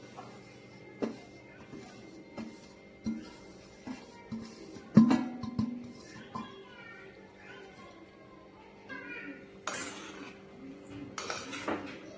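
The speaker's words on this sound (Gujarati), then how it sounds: "લોટને ઘી સાથે મિક્સ કરીશું" Ghee and flour being stirred together in a kadhai for Mohanthal sweet, heard as scattered scrapes, clinks and knocks of a spoon against the metal pan at close range, irregular and moderately loud with a few sharper taps.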